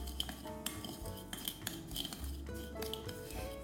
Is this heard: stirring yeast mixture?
yes